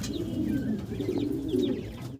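Fancy racer pigeons coo close by in a continuous, throaty, rolling murmur, several birds overlapping, with a few faint higher chirps mixed in.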